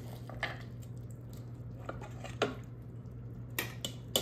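Utensils scraping and clinking against an electric pot while serving boneless beef feet in red sauce, a few soft scattered knocks and clatters over a low steady hum.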